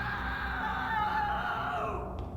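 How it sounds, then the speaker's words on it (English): A cellmate in a Puppet Combo horror video game screams, a sustained, shrill, wavering cry laid over a low droning background, loud and continuous, then trailing off near the end. "our cellmate screams"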